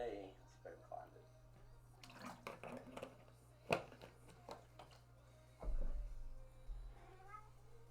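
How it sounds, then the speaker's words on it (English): A cat meows intermittently at close range over a steady low hum, with speech-like sounds and some louder bumps mixed in. "Meow."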